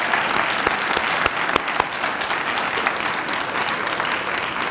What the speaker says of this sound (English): Could I have one more round of applause for Marilee and